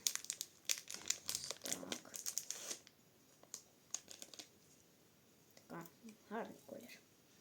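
A pastila sweet's wrapper is torn open, giving crisp crinkling and tearing bursts close up for about three seconds, then quieter rustles, with a few soft voice sounds near the end.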